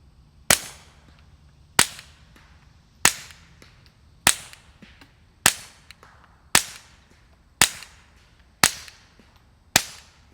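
Nine sharp, evenly spaced .22 pistol shots fired through a full-size 2.2-ounce Echo Zulu Atom suppressor, each a crisp crack with a short tail, heard alone.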